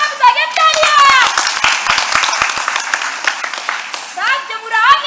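Applause from a theatre audience at a stage play, greeting the magician's assistant's return, sharp claps rattling under loud excited voices that talk over them throughout.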